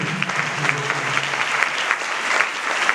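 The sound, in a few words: audience applause at a church seminar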